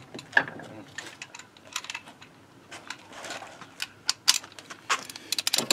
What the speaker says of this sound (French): on va faire ça avec une douille et un cliquet